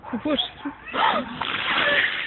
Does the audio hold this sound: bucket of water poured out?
yes